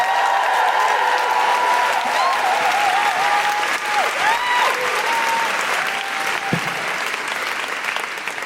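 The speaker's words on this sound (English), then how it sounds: "please join me in giving a huge, huge, huge welcome and round of applause for our last act of the night" Sustained, loud applause from a packed theatre audience at the Hackney Empire welcoming the final act of a comedy and music night, dense clapping with scattered whoops and whistles continuing steadily throughout.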